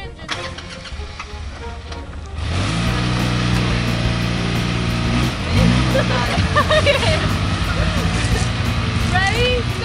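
A small engine cranks over and catches, then settles into a loud steady idle with some revving near the end, close by, with people talking over it.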